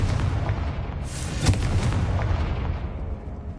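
A Confringo spell blast in the video game Hogwarts Legacy, a loud booming fiery explosion with a sharp burst at its peak and a rumble that fades toward the end.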